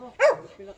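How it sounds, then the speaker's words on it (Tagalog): A single short dog bark, sharp and fairly close, with quiet background between. "galit si Sanjo sa aso."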